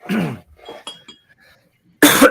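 A single sharp cough up close, followed by faint clinks and rustles, then another abrupt burst of coughing at the end.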